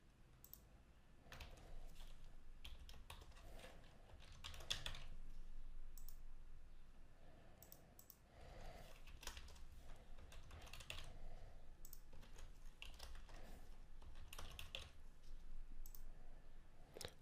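Password being typed on a computer keyboard, a close, quiet run of key clicks in short irregular bursts with brief pauses between them.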